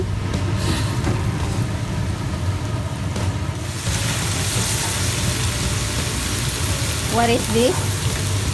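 Chinese fried rice sizzling in a pan, a steady loud frying hiss that runs the whole time beneath a few spoken words.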